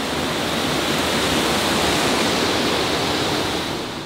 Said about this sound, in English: that is a waterfall